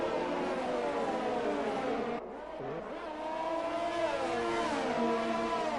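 A McLaren race car in a racing video game roars past, its engine note rising and falling with a Doppler dip, loud and close with tire noise.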